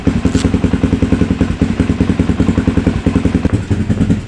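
A loud Suzuki DR motorcycle exhaust thumping in a fast, even rhythm, close up and continuous throughout.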